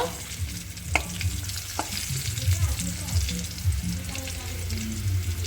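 Potatoes and chopped tomatoes fry in a pan, a soft continuous sizzle with occasional stirring scrapes and clicks, fairly close but not loud.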